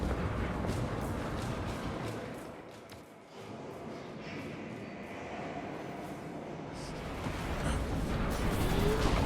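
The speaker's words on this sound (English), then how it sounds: "Deploying shrapnel grenade." A shrapnel grenade blasts in Space Marine 2 amid a dense, rumbling wash of battlefield noise, with a brief dip before the loud roar builds again toward the end.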